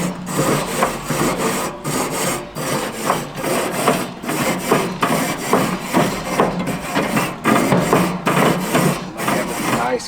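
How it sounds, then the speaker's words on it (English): A wire grill brush scrubs outdoor grill grates clean, a loud continuous back-and-forth rasping scrape with a quick regular rhythm, close up and alone. "So now what I want to do is just clean my grill off again."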